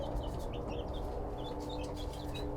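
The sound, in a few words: bantam chickens clucking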